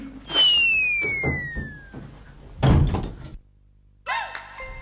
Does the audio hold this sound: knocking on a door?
yes